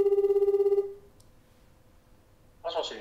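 A telephone rings with a pulsing electronic tone during a call-in segment on a Japanese radio show, then stops; a short burst of voice follows near the end.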